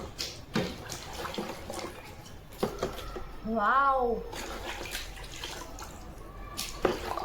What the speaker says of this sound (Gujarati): તમારા સામે પાણી લાવી અને ધોવું.